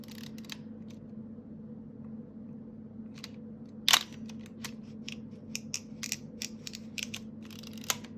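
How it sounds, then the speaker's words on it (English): A film camera's advance mechanism winds the roll as sprocket teeth grip the film, heard as faint close clicks and ratcheting ticks with one sharper snap amid quiet room tone. "this will grip the film and pull it along as you advance the roll, like so"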